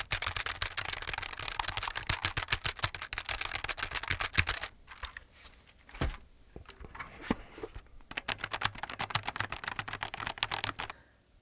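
Rapid, continuous typing on an LTC Nimbleback NB-1041 Pro mechanical keyboard with tactile, quieter switches sounds as dense close clacking, broken by a short pause with a few scattered keypresses before the flurry resumes.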